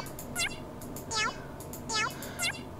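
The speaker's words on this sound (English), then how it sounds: "Let's add some cats in there." Cat-meow notes from the Mario Paint music composer on the SNES play as four short, bright synthetic meows in a bouncy rhythm, heard alone.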